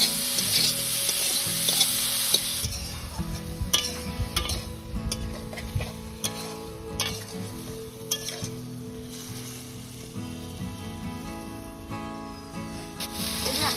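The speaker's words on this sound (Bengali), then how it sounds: "আদা লঙ্কা সমস্ত কিছু ভালোভাবে কষানো হয়ে গেছে" Ginger paste and green chili sauté in a pan for a vegetable curry, giving a strong sizzle that settles into quieter frying with repeated stirring scrapes, close, no talk.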